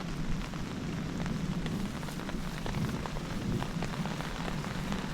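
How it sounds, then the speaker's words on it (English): Light rain falls steadily on a campsite after a storm has passed, a continuous patter with scattered sharper drops close by and no talking over it. "We're getting just a little bit of rain."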